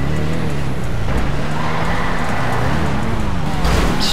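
Car engine drone in GTA RP, a steady loud motor hum with tire noise throughout, under the sounds of a busy driving game.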